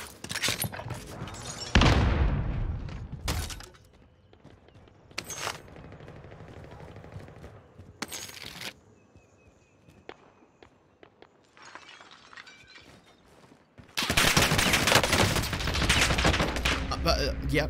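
Gunfire in Call of Duty Warzone, with loud bursts of rapid shots broken by quieter stretches and ending in a sustained heavy barrage. Players talk over the action.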